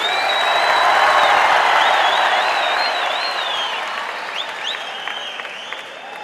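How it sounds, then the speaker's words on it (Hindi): Loud, sustained applause from a large youth convention audience at Mahatma Mandir, thick crowd clapping with whistles rising above it, gradually easing toward the end. "ये आपके तालियों की गूंज पोरबंदर तक सुनाई जा रही है।"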